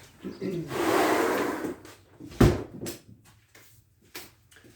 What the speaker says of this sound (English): I'll go ahead and close this door.